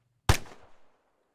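A single rifle shot fires on a firing range in the video game Arma III: one sharp, close crack with a brief rumbling tail that dies away within about half a second.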